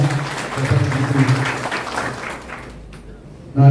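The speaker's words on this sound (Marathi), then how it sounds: "एकदा जोरदार टाळ्या उमटवल्या" Enthusiastic applause from a crowd at a political party joining event in Maharashtra, sustained clapping that fades toward the end before a voice begins.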